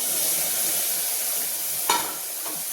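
A tadka tempering for toor dal sizzles steadily in hot oil, a close, even hiss throughout with one brief sharper crackle near the end.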